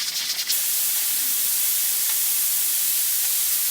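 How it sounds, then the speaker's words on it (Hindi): Steam hisses steadily from the whistle of a pressure cooker cooking daal as it is opened, a loud continuous rush that stays even from start to finish with no voices. "अब हम सीटी को खोल लेंगे"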